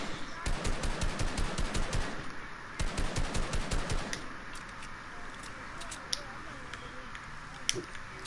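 Rapid automatic gunfire from a video game shootout, several fast bursts of shots in the first four seconds, then a quieter stretch with scattered single cracks and game sounds, with a voice talking at times.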